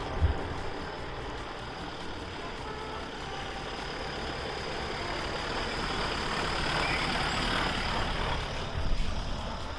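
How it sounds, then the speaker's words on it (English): A vintage bus at Beamish Museum rumbles loudly and steadily nearby, a continuous engine drone that swells slightly toward the end with a brief thump, and no talking over it. "that bus is loud"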